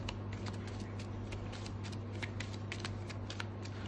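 A deck of playing cards being shuffled at a tabletop board game, a steady run of rapid riffling clicks, close and fairly even over low background hum.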